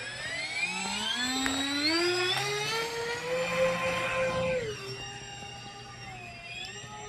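A radio-controlled Albatross HU-16 model seaplane taking off from Lac de Morat, its electric motors whining loudly and rising steadily in pitch, then easing lower as it climbs away.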